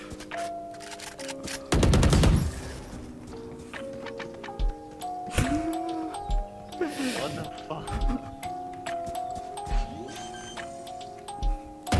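Video game gunfire crackles in bursts, including a loud rapid volley early on and scattered shots later, mixed with game effects and frequent excited talk over the top.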